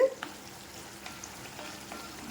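Bitter gourd pickle with ginger fries in sesame oil, a soft steady bubbling sizzle with faint scattered pops, close but fairly quiet, no talking.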